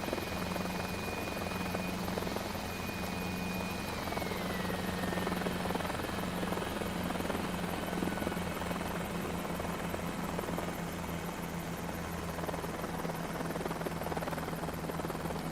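An H125 helicopter engine and rotor run in a flight simulator game, a steady droning buzz with a rhythmic rotor pulse that stays constant and moderately loud throughout, with no talking.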